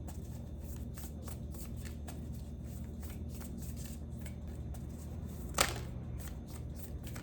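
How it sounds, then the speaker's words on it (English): Oracle cards are shuffled close up in soft, rapid riffling bursts over a steady low hum, ending with a sharper slap as a card is pulled and set down. "Let's pull a Shaman Oracle card."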